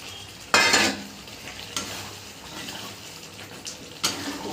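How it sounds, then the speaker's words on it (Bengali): Spice masala for a Bengali bhetki fish-bone chorchori fries in a pan under a low sizzle, broken by several sharp scraping strokes of a spoon, the first and loudest near the start. "আমি মশলাটা আর একটু কষব"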